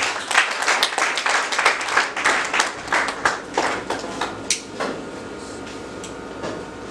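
Audience applause at an interfaith conference in Lomé, a dense, steady clapping from a crowd that starts strong and gradually thins and softens over several seconds, with no one speaking over it.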